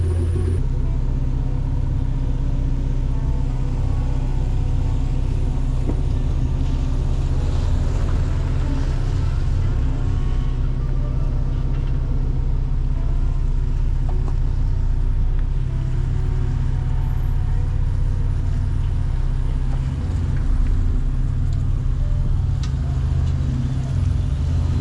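A car on street tires climbing a slick road, a loud, steady engine rumble with constant road noise throughout, heard from inside the vehicle.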